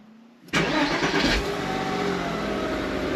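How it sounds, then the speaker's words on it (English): A car engine cranks and fires up inside a garage, a sudden loud start followed by a steady close idle that holds for a few seconds. "Right, so what we'll do is we'll start the car."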